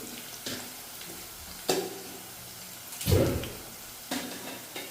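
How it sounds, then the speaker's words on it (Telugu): Chopped onions fry in oil in a pan for a green chilli egg curry, giving a soft continuous sizzle broken by a few louder stirring scrapes and clinks of a spoon against the pan. "ముందుగా ఆనియన్స్ కట్ చేసుకున్నాను, నూనెలో వేయించుకుంటున్నాను."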